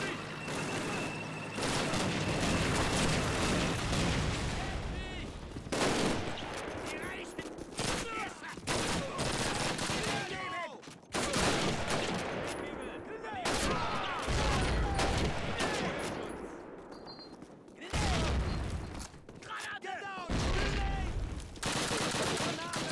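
Gunfire in a video game crackles in dense bursts and volleys for the whole stretch, loud and close, with short gaps between the firefights.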